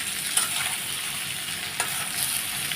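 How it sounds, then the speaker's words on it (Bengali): Potatoes frying in a pan give a steady close sizzle, broken by two sharp scrapes of stirring. "আলুগুলো দিয়ে দিচ্ছি আলুটা আগে ভেজে নেব লাল লাল করে"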